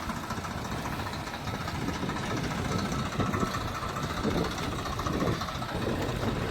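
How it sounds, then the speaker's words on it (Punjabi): A tractor hitched to a straw reaper runs steadily in a farmyard, its engine giving a continuous, fairly loud diesel rumble and clatter with no breaks and no talk. "ਜੋੜ ਲਿਆ ਟਰੈਕਟਰ ਰੀਪਰ"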